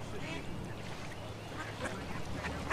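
Ducks quacking faintly in a quiet outdoor scene, scattered soft calls over low background noise with muffled voices nearby.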